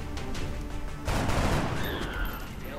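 Video game gunfire in XCOM: Enemy Unknown, a dense burst of shots that swells into a louder, sustained volley partway through, heard up close with no talk over it.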